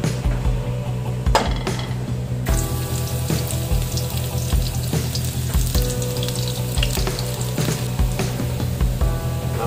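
A frying pan hisses and sizzles steadily with oil and aromatics such as ginger and onion for tuna adobo. The sizzle stays loud and continuous, with clinks and scrapes of stirring and no talking.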